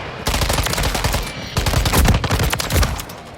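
Loud, close, rapid automatic fire from the Hammer LMG in Modern Warfare 3, two dense sustained bursts with heavy low punch and a short gap between them.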